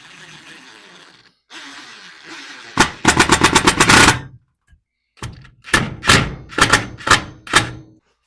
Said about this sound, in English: run some screws through these holes into the back of this tape measure rack